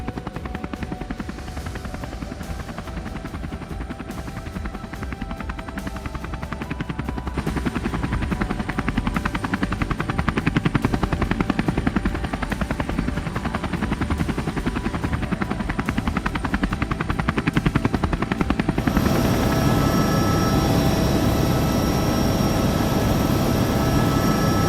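A helicopter flies over the Kalahari, heard from on board as a loud, steady, close rotor thrum and turbine whine that hold for the whole stretch and shift in tone near the end, with no talking.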